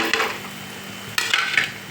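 Spoon stirring Maggi masala, red chilli powder, salt and turmeric into pasta in a pan, producing a steady scraping sizzle with two brighter bursts of movement, close and alone without talk.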